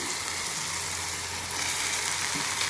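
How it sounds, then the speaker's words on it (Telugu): Sorrel greens fry with tamarind and green chilies in a pan, giving a dense, steady hiss of sizzling oil, loud and continuous with faint stirring underneath. "ఆకుకూర తొందరగా ఫ్రై అయిపోతుంది"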